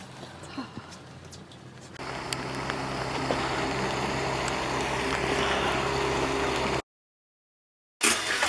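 A boat's outboard motor drones steadily with rushing wind and water noise, loud and close, near icebergs, then cuts out briefly before resuming.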